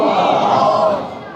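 A large crowd shouts a slogan in unison at a religious speech, a loud, sustained massed cry that fades slightly toward the end.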